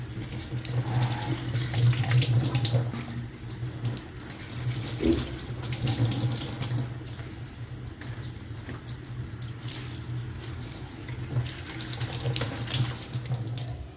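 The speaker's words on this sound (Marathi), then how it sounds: "असे प्रत्येक पान एक साफ धुवून घ्यायचे" A kitchen tap runs steadily while taro leaves are rinsed one by one, giving a continuous splashing rush with small shifts as the leaves move under the stream and no speech.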